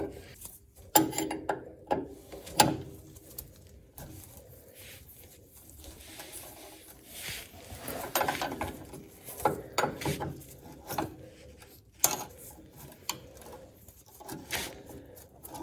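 A hand ratchet works a 19 mm bolt on a cheap Bradshaw / Taylor Dunn electric tug truck, giving close, loud bursts of quick pawl clicks in uneven strokes with pauses between, alone without talk.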